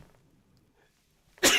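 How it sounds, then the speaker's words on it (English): A man gives one sudden, loud, close sneeze after a few seconds of near silence, and it cuts off abruptly. "excuse me, I'm going to sneeze for a second."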